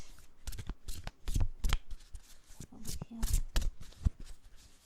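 Tarot cards being shuffled, a quick run of crisp riffling and flicking bursts spread across the whole clip, close and fairly quiet, with a soft voice faintly underneath.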